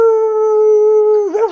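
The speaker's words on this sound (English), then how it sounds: "later I heard that was a coyote howl, not a wolf howl necessarily" A coyote howl from a film soundtrack, a single long sustained tonal cry held steady and loud, then breaking into wavering yips and quavers at the very end.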